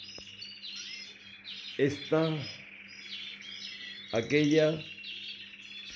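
High, twittering chirps from pigeons and their chicks in a loft run steadily throughout, with two short bursts of nearby conversation partly over them.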